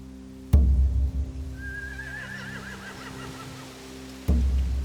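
In a The Walking Dead game scene, a horse gives a single wavering whinny that rises and trembles over a low ambient hum, bracketed by two sharp thumps.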